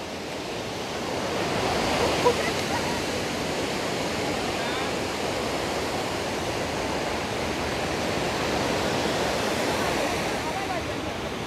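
Sea waves wash steadily onto Puri beach in Odisha, a continuous broad roar of surf with a slight swell early on, with faint voices mixed in.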